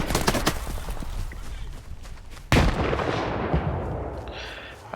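Grenade blast in the video game Stalker 2: a sudden loud boom cutting through ongoing gunfire, followed by a long rumbling decay, with earlier sharp shots crackling before it.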